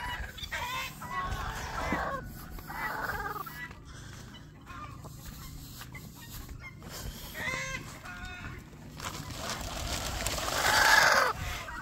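Free-range chickens cluck intermittently in a farmyard, several birds calling close by in short bursts, with children's shouting and a voice breaking in now and then, and a louder flurry of squawking toward the end.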